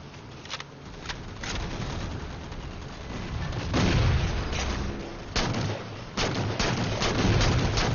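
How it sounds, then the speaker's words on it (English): A grenade explosion in a Halo 4 Big Team Slayer multiplayer match booms amid sharp, repeated bursts of gunfire, loud and close, with little talk. "they just chucked a grenade in here"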